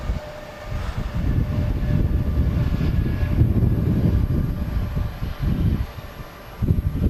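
A Turkish Airlines Boeing 737 MAX at Manchester Airport, a loud continuous low engine roar and rumble that swells and dips slightly over several seconds, heard from nearby with no voices.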